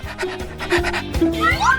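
A puppy pants close by, giving quick rhythmic breathy huffs several times a second, with a short high whine near the end.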